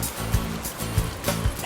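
Steady rushing water from a waterfall tumbling over rocks into a fast-moving stream at a fishing spot, a constant broadband roar with a few soft thumps and splashes near the water's edge.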